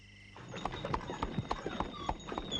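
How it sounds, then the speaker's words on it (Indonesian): Hooves of a horse pulling a carriage clip-clop at a steady trotting rhythm, close and clear, over a constant background hum. "Kemudian mereka berangkat dengan menggunakan kereta kuda."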